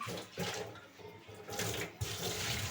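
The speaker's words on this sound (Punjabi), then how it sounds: "ਸਾਰਾ ਪਾਣੀ ਡੋਲ ਦਾਂਗੇ" Water pours out of a clay pot in a steady splashing gush, close and fairly loud, with a few surges and one sharper splash near the end; no voices.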